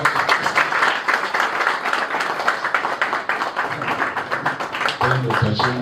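An audience claps at the official launch of an institute as a KASNEB examination centre, a steady wash of many hands filling the room, with a voice briefly heard near the end.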